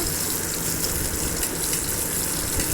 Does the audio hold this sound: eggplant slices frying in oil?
yes